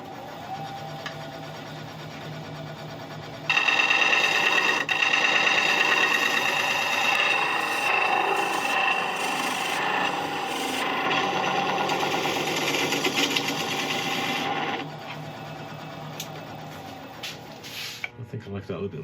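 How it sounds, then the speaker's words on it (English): A lathe spins a wooden burl while a bowl gouge takes a straight pass, a steady whirring hum that grows into louder, rougher cutting in the middle, then eases back to the motor's drone. "I'm just going to take a straight pass through it with a bowl gouge"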